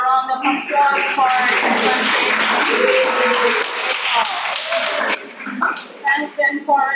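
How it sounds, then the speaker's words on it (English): An audience at a college debate competition breaks into dense applause for several seconds, with a voice speaking over it, then the clapping gives way to talk. "Let's give a round of applause for"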